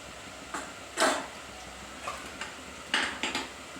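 A spoon clinks and scrapes against a pot as asafoetida and turmeric are stirred into a half-cooked sweet potato curry, a few sharp metallic knocks spaced out over a quiet background.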